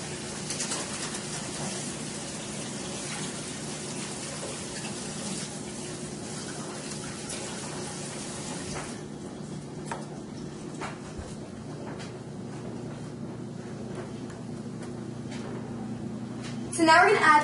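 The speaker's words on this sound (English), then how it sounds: "I'm going to wash my hands after that because that got a little messy." A kitchen tap runs steadily for hand washing, a constant close rush of water that eases partway through and ends with a brief louder clatter.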